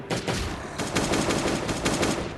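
Rapid gunfire in Last Day on Earth: Survival, a loud burst of close shots followed by a steady run of quick, evenly spaced reports.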